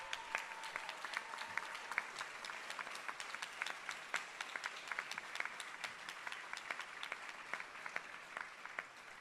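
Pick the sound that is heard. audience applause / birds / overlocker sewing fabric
audience applause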